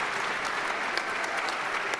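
An audience at the 2013 MHIVC competition finals claps steadily, a dense, even wash of applause from many hands at moderate volume, filling the whole moment with no voices.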